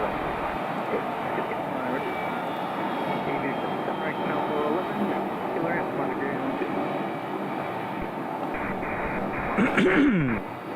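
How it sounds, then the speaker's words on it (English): A seven-year-old Gulfstream 650 business jet moves at an airport in Scottsdale, a broad, sustained jet engine rumble and whine heard at a distance with wind, rising slightly near the end. "this Gulfstream 650 is 7 years old"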